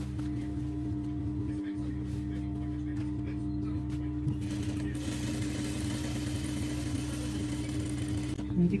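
An electric sewing machine runs steadily, stitching the seams of a kandurah dress, its motor drone carrying a fast rhythmic ticking that picks up in intensity partway through, with faint voices in the background.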